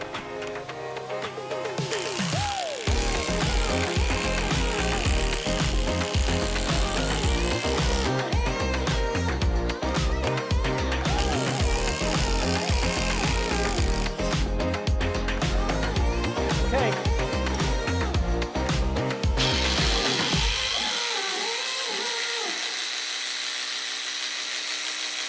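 A Makita XGT 40V impact driver on a fully charged battery runs at speed 4 in continuous loud bursts of whirring and rapid hammering, several seconds each, before winding down near the end.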